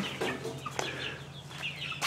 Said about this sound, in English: behind the barn is our chicken coop